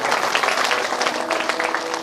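A large audience at a Bhagwat Katha religious gathering claps loudly and steadily, a dense continuous burst of applause close by with no voices over it.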